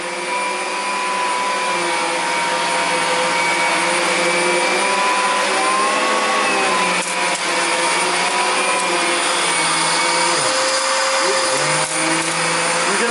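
A Riccar R40 vacuum cleaner runs steadily on a deep-pile rug, its loud, continuous motor whine and airflow roar holding throughout with slight pitch dips as the head is pushed and pulled.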